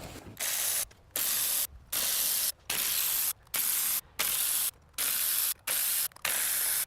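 Ratchet wrench working 8mm intake manifold bolts loose on a 1999-2006 Chevy Silverado, heard as a series of about nine rapid, raspy clicking bursts with short pauses between, close and steady, no talking.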